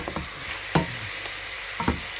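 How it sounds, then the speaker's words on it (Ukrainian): Two onions and half a kilo of meat fry in oil in a pot, a soft continuous sizzle broken by several sharp stirring clacks and scrapes, close up and with no one speaking. "Тут спочатку на олії підсмажила дві цибулі, е, дала пів кілограма м'яса"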